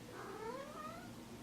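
A cat meows in one drawn-out, rising-then-falling call at moderate distance, standing out over a steady background hiss.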